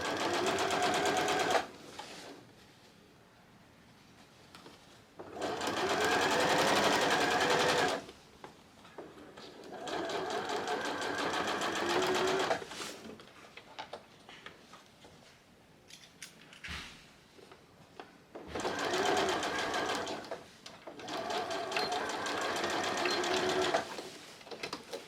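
Bursts of rapid mechanical stitching from a sewing machine joining bodice lining pieces, alternating with short quiet pauses, close and fairly loud, with no speech.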